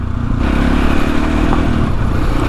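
A Husqvarna SMS630 supermoto motorcycle being ridden roars continuously at close range, a loud, gritty engine drone with clattering underneath and no speech.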